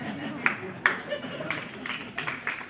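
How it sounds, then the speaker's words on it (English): Scattered clapping from an audience at a lecture hall talk, a handful of sharp separate claps spaced irregularly, with a voice speaking faintly underneath. "Why are you clapping?"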